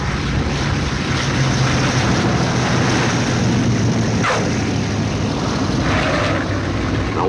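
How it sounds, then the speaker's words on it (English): Loud, continuous roar of a Hercules turboprop cargo plane coming in to land, with a broadband rushing wash, steady throughout and close by, with no voices. "A Hercules turboprop cargo plane coming in for a landing."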